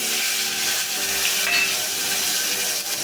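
Tomatoes going into fried muthiya in hot oil, a dense close sizzle with stirring scrapes and light knocks from a spoon against the pan, no voices.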